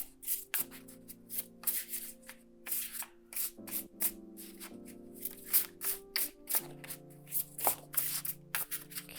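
Tarot cards being shuffled by hand in a run of quick, soft riffling bursts, close and steady with brief pauses between strokes, while a tonal drone plays quietly underneath.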